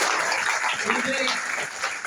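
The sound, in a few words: applause from meeting audience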